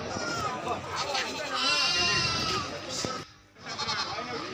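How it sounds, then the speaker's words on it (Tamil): Goats and sheep bleat repeatedly at a crowded early-morning livestock market in Pavoorchatram, overlapping cries near and far over a busy crowd murmur, with people talking. "இது செம்மறி கிடாய்கள் மற்றும் கொட்டாடுகள் இதில் இருக்குது."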